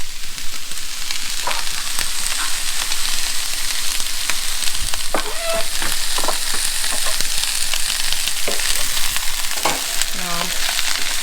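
Cabbage frying in a pan while being stirred, a steady loud sizzle with repeated scraping stir strokes throughout, no talking.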